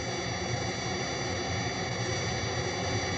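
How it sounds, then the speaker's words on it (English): A synthesizer produces jet engine noise, a steady, even roar of broadband hiss that holds at a constant moderate level throughout. "Let's listen to how this jet noise can be altered when parts of it are filtered or removed."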